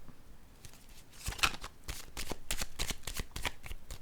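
Oracle cards being shuffled and drawn from a deck during a card reading, a series of crisp riffling bursts and flicks, close and clear, with no talking over them.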